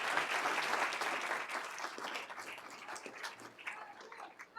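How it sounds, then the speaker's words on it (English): A round of applause for Grace fills a school board meeting room, steady clapping from a modest crowd that gradually thins and fades. "let's give Grace a round of applause as well"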